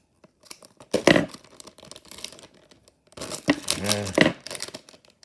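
A plastic bag from a NASCAR 1:87 diecast mystery pack is torn open up close. Two bursts of crinkling and ripping come about two seconds apart, with quiet handling between them.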